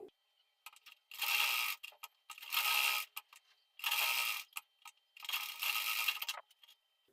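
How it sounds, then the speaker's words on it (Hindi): A sewing machine stitches a blouse sleeve seam in four sustained bursts of rapid mechanical whirring, with short clicks and pauses between runs, quiet and close. "चलो यहाँ पर हम सिलाई लगा लेते हैं।"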